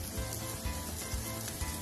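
Mushrooms sizzle in hot olive oil in a pan, a steady crackling fry throughout with a few soft louder pops, no talk.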